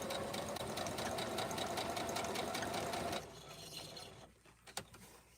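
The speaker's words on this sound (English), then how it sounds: "I'm just sewing around my 1/2 inchers of the next block." Close sewing machine running steadily as it stitches around the half-inch seam allowances of a rag quilt block, then stopping abruptly partway through, leaving faint room noise and a soft knock.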